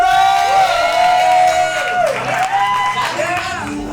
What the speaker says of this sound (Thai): เราปรบมือไปเลย